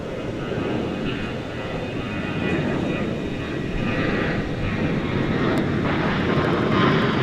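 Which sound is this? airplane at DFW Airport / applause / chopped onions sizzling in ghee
airplane at DFW Airport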